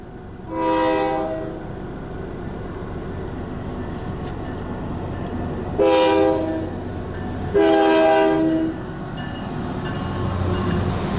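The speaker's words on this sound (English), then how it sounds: "And there goes the choo-choo train." A train rumbles past while its horn sounds three times, one long blast, then two shorter ones, loud and close over the steady rolling noise.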